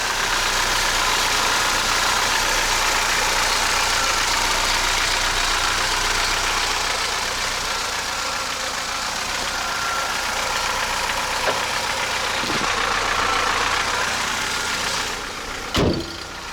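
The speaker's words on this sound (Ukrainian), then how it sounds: "Буде чути, як він гримить той двигун, але насправді він працює тихо, чистенько." An Opel Astra F Caravan engine idles steadily and close by with a constant low rumble and a faint rattle, ending with a brief knock near the end.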